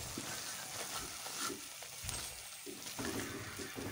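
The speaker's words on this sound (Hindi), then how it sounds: "अब इन दोनों चीज़ों को मैंने अच्छे तरीके से भून लेना है।" Gram flour and all-purpose flour roast on low heat in a pan for besan barfi, giving a steady, soft hissing sizzle with faint scraping throughout.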